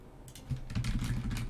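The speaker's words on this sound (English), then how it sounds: "It's actually a relatively quiet mechanical keyboard" Fingers typing on a relatively quiet mechanical computer keyboard at a desk, a close, rapid run of soft clacking keystrokes that starts after a brief pause and continues steadily.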